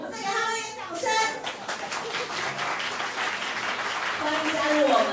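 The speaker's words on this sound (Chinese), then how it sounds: "我们再给他们一点掌声。" Applause for the performers at a grown-ups' concert of a joint ensemble, a dense wash of clapping that builds and holds steady through the end, with children's voices and brief chatter mixed in at the start.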